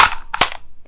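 A Nerf blaster fitted with a rail system fires two quick, sharp, snappy pops in under a second, close and loud.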